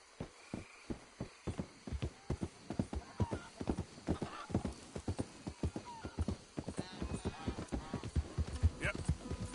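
Steady clip-clopping of horse hooves in a video game, fairly close and rhythmic, with a horse whinnying and some talk mixed in over the trotting.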